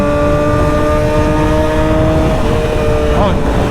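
A BMW motorcycle engine hums at steady high revs with a strong tonal whine that stays close and loud, its pitch wavering near the end, with a voice talking over it.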